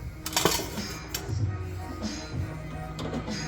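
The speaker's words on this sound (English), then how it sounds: "See if I can grab a spatula here." A metal spatula pulled from a cluster of kitchen utensils while making low sugar pecan pie, a few light clinks and rattles of metal against metal, close and fairly quiet, with faint background hum.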